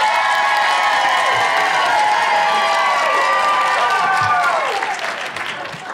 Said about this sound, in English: If you thought this was the best answer, applaud.